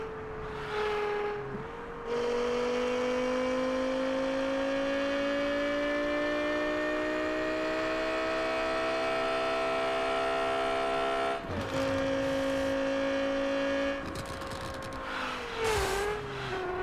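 Car engine in the Car Parking Multiplayer mobile game revving high and holding a strained whine, dropping briefly, then climbing again with a few sharp blips near the end; synthetic and steady, no talk.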